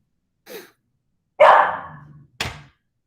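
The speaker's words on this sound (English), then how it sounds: "My dog has questions. She wants to go outside." A pet dog barks three times in short, close bursts, the middle one longer and trailing off, with silence between them and no talk.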